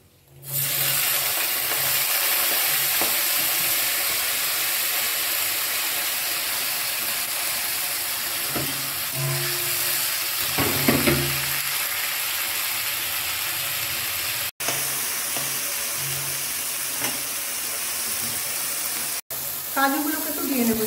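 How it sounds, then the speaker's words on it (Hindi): Mixed vegetables sizzle steadily in hot oil with cumin and cloves in a pan for a vegetable korma, a continuous close frying hiss with occasional stirring clatter and two brief cuts. "এবার এই সবজিগুলো ভাজব"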